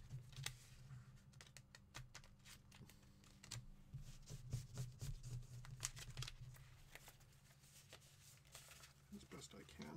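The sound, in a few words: shuffling a deck of monster cards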